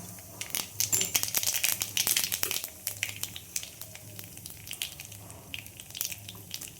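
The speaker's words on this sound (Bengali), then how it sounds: "ওই তেলের মধ্যে আমি কালো জিরে দিয়ে দেবো।" Nigella seeds crackle and sizzle in hot oil left over from frying fish, with a busy run of sharp pops and spits that builds and then thins out while the pan keeps hissing quietly underneath.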